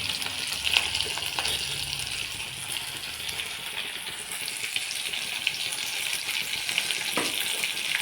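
Onions and green chillies frying in a pan for paneer gravy, a soft continuous sizzle with occasional light clinks, moderately quiet.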